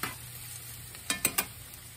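Onions soften in a pan for refried beans with a quiet steady sizzle, broken near the end by three quick sharp scraping stirs.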